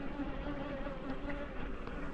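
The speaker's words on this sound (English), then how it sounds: "Got bees flying around me here listening" Honeybees buzz close by around a beekeeper working a hive, a continuous droning hum with wingbeat tones rising and falling as individual bees pass near.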